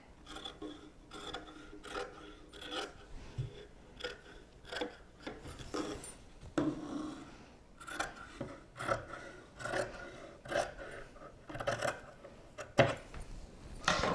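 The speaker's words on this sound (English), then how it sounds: "And all I cut was just that black fabric." Black fabric on a notebook holder being trimmed by cutting, a series of short rasping snips and rubs repeating unevenly at close range, with no talking.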